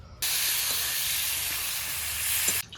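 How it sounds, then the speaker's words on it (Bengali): Potatoes and eggplant sprinkled with salt and turmeric sizzling in hot oil in a wok, a loud steady hiss that starts abruptly, holds evenly for over two seconds, then cuts off. "মাছ ভাজার আগে আলু বেগুনগুলি অল্প ভেজে রাখবো"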